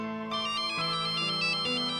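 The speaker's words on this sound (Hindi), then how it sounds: "फोन आ रहा है" A melodic electronic phone ringtone plays on its own, a repeating bright tune at moderate volume with no voices.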